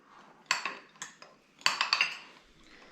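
Spoon clinks and scrapes against a bowl while brownie baked oats batter with melted butter and chocolate chips is stirred, a few sharp metallic knocks in an uneven rhythm, close and quiet.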